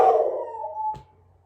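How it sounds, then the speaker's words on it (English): A dog gives one drawn-out, howling bark that fades over about a second, followed by a brief soft thump. It is close and loud, with no talking. "Hopefully he's not too loud barking right now."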